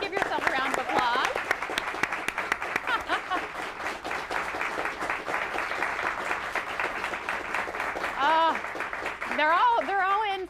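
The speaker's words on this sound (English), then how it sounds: "Give yourself a round of applause." Applause from a live studio audience rolls on steadily, dense and moderately loud, while a host talks over it and laughter and voices rise near the end.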